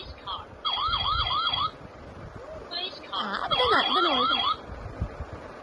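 A voice imitates a wailing police siren in two rising-and-falling bursts, close and fairly loud, with a short pause between them.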